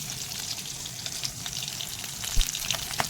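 Curry leaves and green chillies crackle and sizzle in hot oil in a pan, a steady close frying hiss with scattered sharp pops, with no talking.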